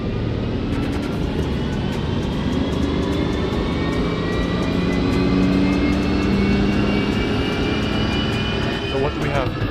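A BMW E90 diesel car runs hard on a dyno, a loud, continuous roar with a rising whine as the engine climbs through its rev range for nearly ten seconds.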